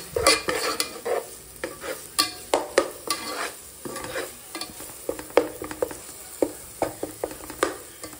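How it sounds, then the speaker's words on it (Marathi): Masala spice paste frying in oil in a pan, crackling sizzle broken by frequent clattering spatula strokes against the pan in an uneven rhythm, close and fairly loud, with no talking. "तर मसाला पण बघा मस्त फ्राय झालाय, मस्त तेल सुटलंय एकदम"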